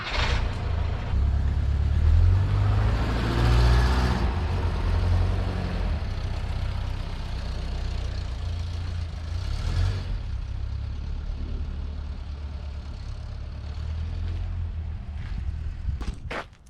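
A bus engine runs steadily at low pitch while driving, a continuous rumbling drone that swells around the start and again mid-way, with a few sharp clicks near the end.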